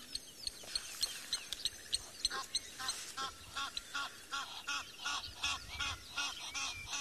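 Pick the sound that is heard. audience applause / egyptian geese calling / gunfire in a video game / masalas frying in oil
egyptian geese calling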